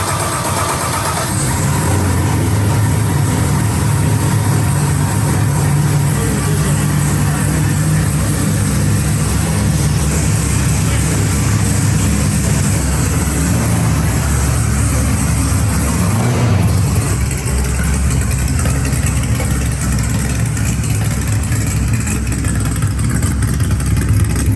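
A project car engine idles loudly and steadily after a full cold start, a constant low rumble running unbroken close by with no voices.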